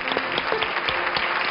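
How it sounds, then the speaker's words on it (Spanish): Studio audience applause on an afternoon television show, a thick, even burst of many people clapping, close and loud throughout with no voices over it. "te quieren aplaudir"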